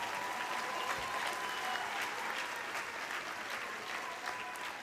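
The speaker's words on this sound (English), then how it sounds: "let's give all these students a round of applause" A high school graduation audience applauds the graduating class of 2021, with dense, sustained clapping from a large crowd at a steady, fairly distant level.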